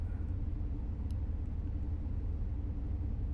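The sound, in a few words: road traffic on US 160 near Wolf Creek Summit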